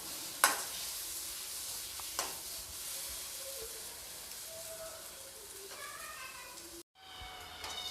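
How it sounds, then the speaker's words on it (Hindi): Kasuri methi roasts with spices in a pan over low to medium flame, a faint, soft sizzle with occasional light stirring clicks, while birds coo and chirp quietly in the background. "कसूरी मेथी को भी मैंने लगभग आधा से 1 मिनट तक भूनकर तैयार कर लिया है"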